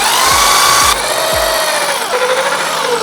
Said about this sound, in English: Drill them in, plug them up.